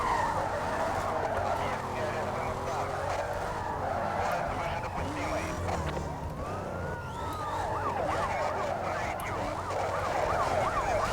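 Police car siren wailing in the racing video game Need for Speed Most Wanted, continuous rising and falling tones over engine roar and tire noise throughout.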